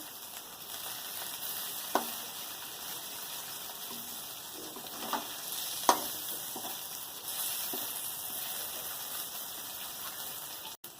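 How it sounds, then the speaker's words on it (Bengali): Shrimp paturi wrapped in bottle gourd leaves, pressed down and frying on low heat, gives off a quiet, steady sizzle with a few soft taps and scrapes. "এরকম চাপা দিয়ে দিয়ে অল্প আঁচে পাতুরিগুলো ভেজে নেব।"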